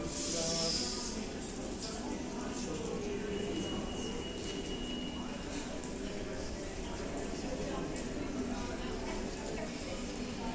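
A Rome metro train running, with a steady broadband rumble and rail noise filling the space at moderate level throughout, without distinct pauses, and a voice speaking over it.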